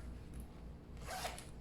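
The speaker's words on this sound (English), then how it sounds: "There's another zipper." A zipper on a purse is pulled open in one quick, faint rasping stroke against quiet room background, with no talking.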